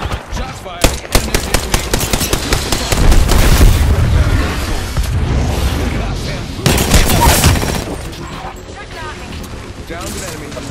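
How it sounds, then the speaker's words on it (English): Rapid automatic gunfire in the Apex Legends battle royale game, with bursts of shots and heavy booms rising and falling over about ten seconds amid other game sounds. "Shots fired."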